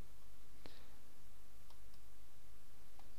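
A single computer mouse click lands sharply near the start, followed by a few fainter clicks over a steady background hiss while someone applies a table width setting.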